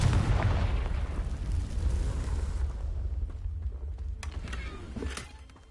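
A Confringo fire spell explodes in the video game Hogwarts Legacy, a loud rumbling blast that fills the opening seconds and slowly dies away, followed by a couple of sharp crackles near the end.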